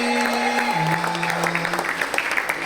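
An audience at a health talk by dr Tommy in Tangsel applauds the hosts, a steady patter of clapping under a sustained electronic tone that shifts pitch once.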